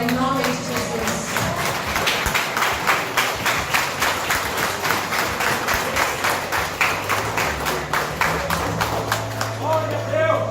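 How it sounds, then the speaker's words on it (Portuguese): Congregation in a church service clapping steadily in rhythm for about ten seconds, loud and sustained, with a low musical drone and some voices underneath. "Levante o aplauso ao nosso Deus agora, em nome de Jesus."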